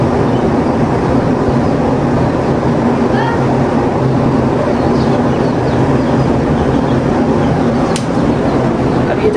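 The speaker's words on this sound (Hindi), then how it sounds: "ये देखिए जब हमारा आउटर जो है ना वो इस तरह से आवाज़ करता है जब बंद होता है" Steady, loud mechanical whirring of an air conditioner's outdoor unit, a constant broadband drone with no pauses and a brief click near the end.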